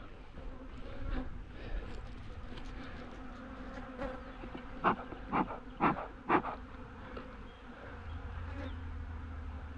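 Angry swarming honeybees around backyard hives drone steadily throughout, a dense buzzing bed with several louder close passes as individual bees fly right past.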